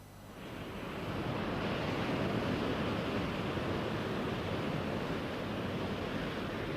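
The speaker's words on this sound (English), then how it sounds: "This is the Pacific Ocean." Pacific Ocean surf along a California beach rolls in as a steady, loud, broad wash of breaking waves, swelling slightly at the start and holding constant with no voices.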